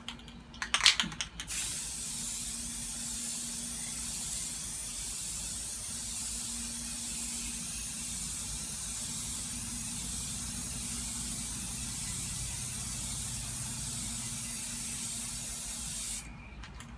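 Rust-Oleum spray paint hissing from a can in one long continuous burst lasting most of the stretch, preceded by a brief rattling shake, close and steady.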